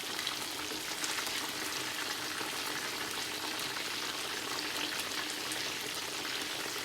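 Pieces of Thai fried chicken sizzle in hot oil, a dense, steady, even crackle that carries on unbroken and fairly close, with no talking.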